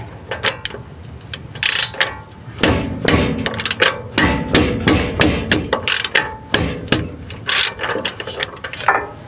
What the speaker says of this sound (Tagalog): tatanggal natin itong bolt na ito, dalawa, para may ilabas natin itong buong caliper